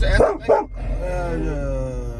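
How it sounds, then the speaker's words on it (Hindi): A dog barks while looking out from the back seat of a car: two quick sharp yips up front, followed by a voice talking over steady road hum. "ये थोड़ा सा बाहर देख के भौंक रही है"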